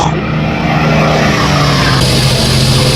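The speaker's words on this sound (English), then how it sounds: "this plane came over the house with a roar" A plane passes low over a house with a loud, steady engine roar that fills the whole stretch, broad and unbroken, with no voices.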